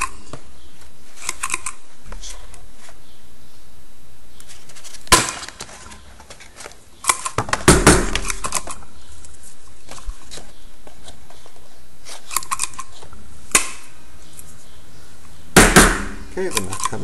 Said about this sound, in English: And I'm going to go in with the crocodile. Just punch 2 holes.